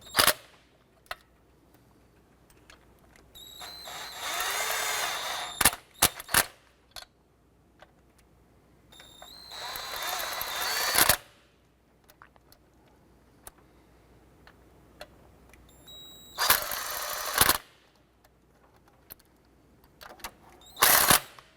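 A ratchet snugs down the fuel injector bolts on a 1993–1997 Ford Ranger, heard as several quick bursts of rapid clicking separated by quieter pauses with scattered single ticks.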